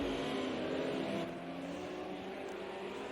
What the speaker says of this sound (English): There is a train of cars now.